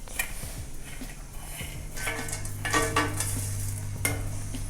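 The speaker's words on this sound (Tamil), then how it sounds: "இப்போ நம்ம தாளிக்கிறதுக்கு எடுத்ததெல்லாம் ஒன்றா போட்டு தாளிச்சிடலாம்" Spices temper in hot oil in a pan for a vegetable kurma, a soft sizzle joined by spoon stirring and light scraping clicks against the pan, fairly quiet and close, with a low hum underneath.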